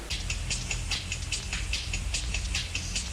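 Phonk drum loops stacked with a white noise sample make a dense, continuous hissing wash with regular crisp hits and a steady low rumble underneath, loud and unbroken throughout.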